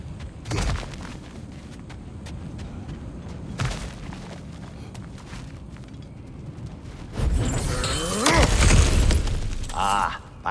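Cracked ground being smashed apart in God of War Ragnarök, a loud crumbling burst of breaking rock and debris that lasts a few seconds, following earlier sharp impacts, with game music and ambience underneath and voices talking.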